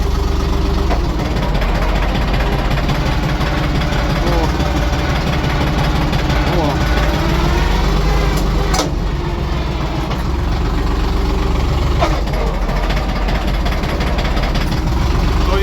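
A small LOVOL tractor of 24–35 hp with a cab runs its engine in a steady, loud, unbroken drone throughout, with people talking over it.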